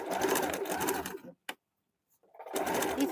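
A sewing machine stitches a kurta in a steady loud run, then stops for a silent pause with one brief tap, and starts running again near the close.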